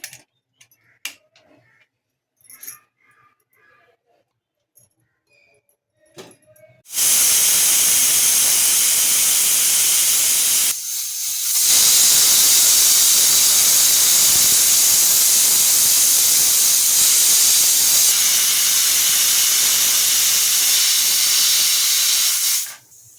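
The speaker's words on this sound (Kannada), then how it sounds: "ಮೂರು ವಿಸಿಲ್ ಆಗಿದೆ" Pressure cooker steaming on the stove with lentils and salt for bisi bele bath, letting out a loud, sustained hissing whistle that starts abruptly, breaks off briefly, then resumes and runs long before stopping, with no talk.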